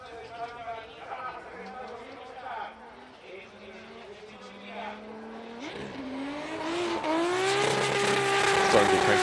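A Nissan S14 Sylvia drift car from AMC Racing revs through its gears at Fuji International Speedway during qualifying, its engine climbing in pitch and growing louder toward the end, under a commentator's steady talk.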